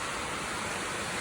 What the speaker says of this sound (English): so sorry about the rain noise